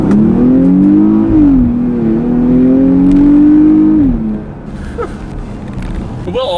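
A Porsche Cayenne GTS V8 in Sport Plus revs hard through paddle-shifted gears, its engine note climbing and stepping between shifts before easing off, loud and close from inside the cabin.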